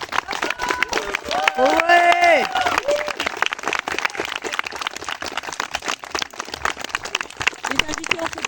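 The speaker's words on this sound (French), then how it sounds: "j'invite tous les invités à se lever pour applaudir les mariés" Wedding guests at a secular outdoor ceremony applauding the newlyweds, a sustained patter of clapping from a gathered crowd that runs throughout, with a brief cheer and voices mixed in.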